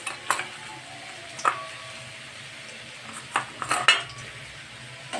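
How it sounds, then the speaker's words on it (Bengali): Curry with fried lentil bora stirred in a metal pan: a spoon clinks and scrapes against the pan in several sharp, irregular knocks over a soft, low sizzle, with no voices. "এইটাতে একটু নেড়ে চেড়ে গরম জল দিয়ে দেবো।"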